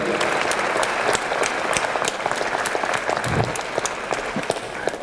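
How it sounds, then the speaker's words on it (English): Sustained applause from a sizable luncheon audience, steady and loud for the whole stretch, with scattered sharper claps standing out and no talking over it. "giving them a big round of applause for supporting us today"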